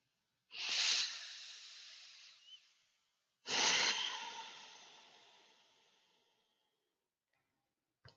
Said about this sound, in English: Start to lengthen your breathing.